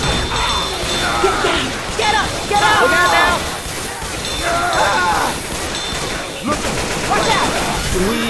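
Gunfire in Left 4 Dead 2, a burst of repeated shots with crashes and clatter over several seconds, loud and close, with game voices and chatter mixed in.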